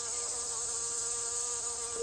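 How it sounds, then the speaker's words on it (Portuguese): Hoverfly hovering in a garden, wings producing a steady, continuous high-pitched buzz, close and fairly faint, with no pauses over the short span. "porque têm a habilidade de permanecer numa posição quase indefinidamente, batendo vigorosamente e intermitentemente as asas"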